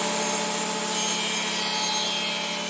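A table saw with feather boards clamped down cuts through wood, giving a steady, loud whine and grinding rasp that holds evenly throughout.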